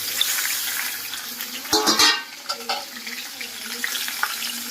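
Chicken pieces fry in hot oil in a pan, a continuous crackling sizzle with a burst of louder spitting midway as more pieces are added, close and fairly loud.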